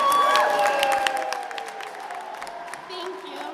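An audience at a speaking conference applauds with a burst of quick, scattered claps. The clapping comes over a sustained musical tone and fades gradually across a few seconds.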